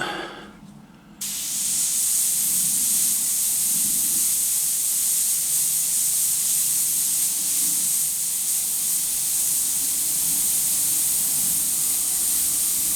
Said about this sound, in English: got my airbrush turned right down